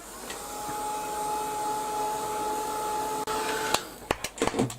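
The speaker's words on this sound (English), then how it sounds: "I'm going to give that a quick blast with the heat gun" Heat gun blowing hot air over a mixed media clock piece, a steady whooshing drone with a faint whine, followed by a few sharp clicks and knocks as it switches off.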